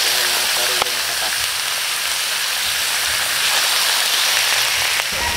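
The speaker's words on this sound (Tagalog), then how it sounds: "Magigisa na po natin hanggang sa lumabas yung sariling katas." Meat frying in a hot pan with onion and ginger, releasing its own juices: a loud, steady, dense sizzle that continues throughout, with faint scrapes and occasional spatters.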